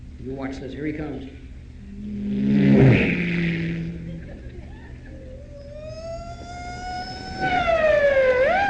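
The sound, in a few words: vocal imitation of a police car siren chasing a car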